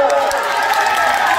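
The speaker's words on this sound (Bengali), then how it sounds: "জয়নগরের খেলোয়াড়দের জন্য জোরে হাততালি হয়ে যাক।" A crowd claps and cheers for the Joynagar players at a match, a steady dense applause filling the whole moment.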